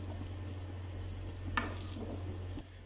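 Eggplant slices fry on a hot tawa with a steady, close sizzle over a low hum, and a short clatter marks the slices being turned over.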